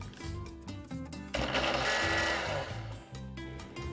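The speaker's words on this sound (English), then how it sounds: "I'm gonna blend it really good." A kitchen blender whirs through onion, bell pepper, serrano, jalapeño and garlic for homemade salsa, its motor droning steadily and rising into a louder, fuller grind midway before settling back.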